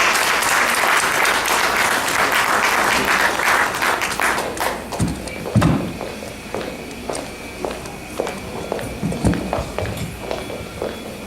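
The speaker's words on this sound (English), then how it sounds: "Please give him a big round of applause." An evening audience applauds keynote speaker Bob Townsend at a mayor's speech event: loud, dense clapping for several seconds thins into scattered claps, with footsteps on a hard floor as he walks up.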